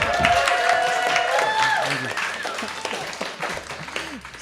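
An audience at a public meeting on funding DIY creative enterprises claps for the moderator, a loud burst that fades over a few seconds, mixed with voices and a bright whistle or cheer.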